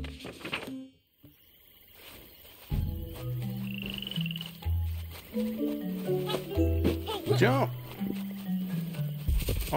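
Enlarged frog from The Plucky Squire video game croaking in deep, drawn-out repeated calls among chirpy game sound effects, close and fairly loud, after a brief quiet gap.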